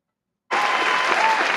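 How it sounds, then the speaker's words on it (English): A canned crowd-applause sound effect on a radio show cuts in abruptly after a brief silence and keeps going as a loud, even wash of clapping. "Let me get the applause going for you"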